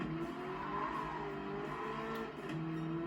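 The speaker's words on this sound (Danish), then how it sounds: "Den laver også meget hjulspænd, hvis I kan høre det." Car wheelspin in a driving game, steady tire squeal and engine whine held throughout at moderate level, with no talking.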